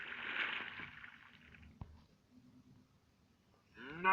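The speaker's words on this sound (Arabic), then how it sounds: "بقرة." A Minecraft cow moos once, a short nasal low-pitched call at the start, followed by quieter game sounds and a brief soft click.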